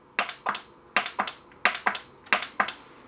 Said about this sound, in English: You can hear the relays click